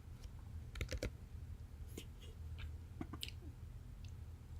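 A computer mouse button gives a handful of sharp, faint clicks, some in quick pairs and others spaced a second or so apart, over a quiet room hum. No one speaks.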